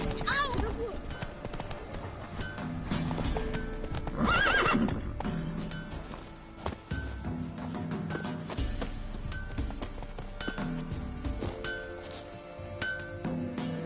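Roach the horse from The Witcher 3: Wild Hunt, with steady clip-clopping hooves, a whinny near the start and a louder neigh in the middle, mixed with clinks and voices talking.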